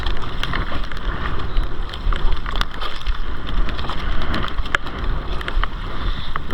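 Rain patters on a small boat at sea, with a dense hiss of drops and scattered sharper taps, gusty and continuous, with no talk.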